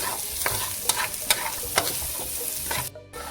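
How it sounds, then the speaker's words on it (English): Onion and garlic stir-frying in hot oil: a steady loud sizzle with scraping stirs at intervals, heard close and without any talk. "To stir fry onion and garlic."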